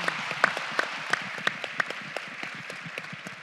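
Conference keynote audience applauding, a steady patter of many hands clapping at moderate distance with a few sharper close claps standing out.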